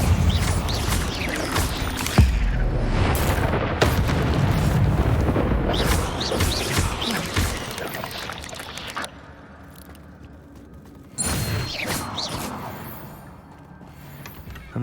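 The Incendio fire spell is cast in Hogwarts Legacy, giving loud whooshing bursts with booming, crackling flare-ups across several spell impacts, separated by a quieter stretch before another strong blast.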